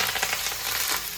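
Curry leaves, urad dal, dried red chillies and peanuts crackle and sizzle steadily in hot oil for tempering, close and even, with no voices.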